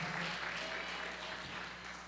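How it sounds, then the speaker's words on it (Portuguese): A church congregation claps together in praise during a men's conference service, a dense, even wash of applause held steady throughout, fairly faint and slightly distant. "Você pode aplaudir o Senhor pela presença dele."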